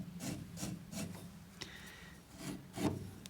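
Finer grit sandpaper rubbing on wood in a steady series of back-and-forth strokes, quiet and close, each stroke a soft rasping swish.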